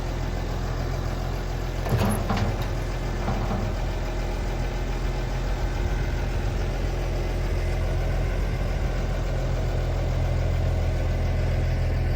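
A tractor engine idles steadily with a low, continuous rumble while hooked up to tow an old Mazda Capella out of the bush, with a few brief knocks and clatters early on.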